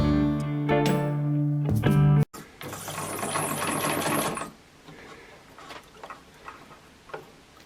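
A sewing machine stitches fabric for a cloth mask in a loud, fast whirring burst, then pauses briefly before a second, noisier run of stitching. After that come quieter scattered ticks and clicks.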